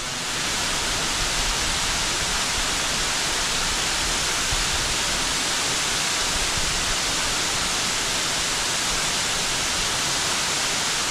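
Sougahoagdee Falls in Alabama pouring onto rocks, a loud, dense, steady roar of rushing water heard alone and close, with no pauses or variation.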